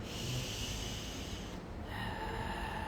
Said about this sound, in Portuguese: Você solta o ar, espreme a bexiga, inspira, expande a caixa torácica.